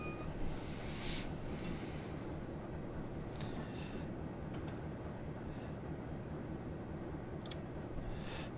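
A train in Train Simulator, working a switcher on Marias Pass, rolls along with a steady low rumble, while faint squeals and clanks come and go over the continuous noise.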